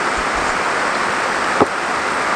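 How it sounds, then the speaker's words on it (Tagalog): Heavy rain pouring steadily outdoors around a garden of damaged Echeveria succulents, a loud, dense, unbroken hiss with one brief soft knock partway through, no voices. "Lumakas bigla yung ulan"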